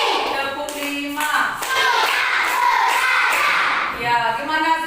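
A class of children does the rhythmic 'tepuk semangat' clapping routine, with sharp hand claps in counted bursts mixed with young voices chanting along and talking throughout.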